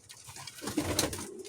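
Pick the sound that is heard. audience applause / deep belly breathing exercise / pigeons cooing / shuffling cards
pigeons cooing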